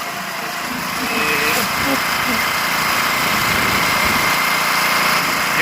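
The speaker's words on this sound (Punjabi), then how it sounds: "ਤੇ ਅੱਜ ਚੱਲੇ ਆ ਬਾਈਕ ਤੇ" A motorcycle engine runs steadily throughout with a constant droning hum and wind noise, close by, while a voice speaks over it.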